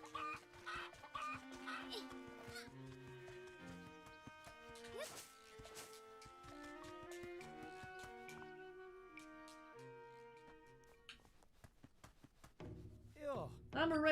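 A chicken clucks in the video game Zelda: Echoes of Wisdom, with scattered short clucks mostly buried under continuous tinkling game music, growing a little clearer near the end.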